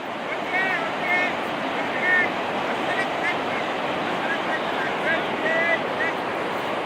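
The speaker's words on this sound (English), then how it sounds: "I'm sure you guys can hear the sound of the water." Victoria Falls on the Zimbabwe–Zambia border roars as a steady, broadband rush of water heard from a bridge. A voice murmurs faintly beneath the constant wash.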